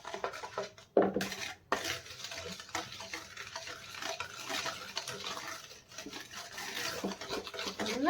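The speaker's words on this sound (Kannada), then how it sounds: "ಚೆನ್ನಾಗಿ ಮಿಕ್ಸ್ ಆಗ್ಬೇಕಿದು." Brownie batter mixed by hand in a bowl at home, with close, uneven scraping and soft clinks of a utensil against the bowl, steady throughout and faint, with no one talking.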